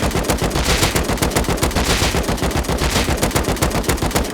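Loud, continuous automatic gunfire from the Rust video game rattles out in a rapid, steady stream of shots, with no pauses or talking.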